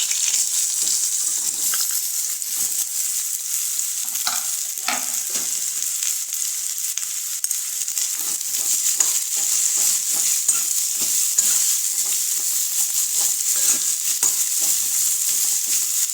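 Cut bottle gourd pieces stir-frying in hot oil tempered with cumin and asafoetida, a steady sizzle broken by repeated spatula scrapes and stirs, nearby and without talk.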